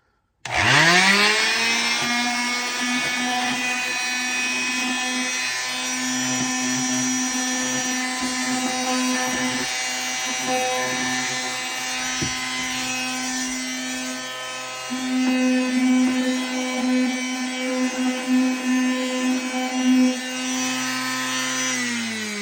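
A power tool works on wood with a loud, steady motor whine and rough sanding grind, run continuously for about twenty seconds while an opening is smoothed during a honey extractor build.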